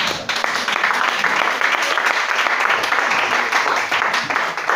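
A church congregation at a worship service bursts into sustained, dense applause and clapping, loud and continuous, with voices mixed in beneath the clapping.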